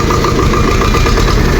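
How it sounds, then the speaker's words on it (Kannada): A diesel tractor engine idles steadily at close range, a continuous low rumbling drone with even vibration throughout and no voices. "ಟ್ರ್ಯಾಕ್ಟರ್ ಒಂದು ಚಾಲು ಮಾಡ್ಕೊಂಡು"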